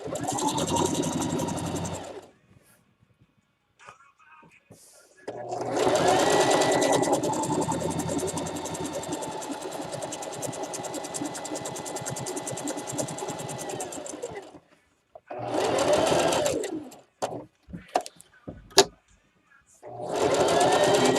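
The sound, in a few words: sewing machine stitching fabric for an Easter basket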